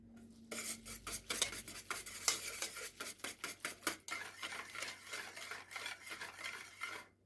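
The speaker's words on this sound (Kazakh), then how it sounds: "жақсылап араластырамыз." A utensil stirs korzhik batter of kefir, egg and oil in a bowl with rapid rhythmic scraping and clinking strokes. The strokes are close and continuous for about seven seconds, with no talking.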